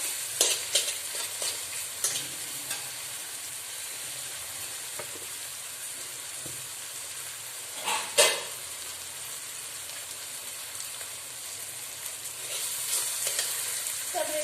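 Rohu fish frying with turmeric in a pan makes a soft, steady sizzle broken by scattered spatters and a few sharper stirring scrapes, with no talk.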